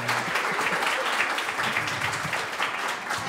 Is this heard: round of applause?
yes